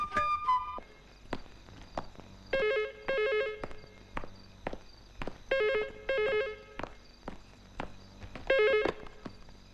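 A telephone rings in bursts of repeated electronic trills after a redial, each ring separated by pauses, fairly close and clear with no talking over it, amid faint thumps.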